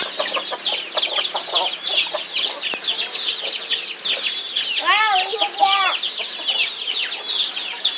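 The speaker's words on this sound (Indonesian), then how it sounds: "Nah, ini si Silam, ayam aku" Pet chickens cluck and crow in repeated, fairly close bursts, with a brief rising call in the middle, while a person speaks over them now and then.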